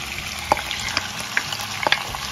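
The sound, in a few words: marinated chicken for shahi korma frying in pan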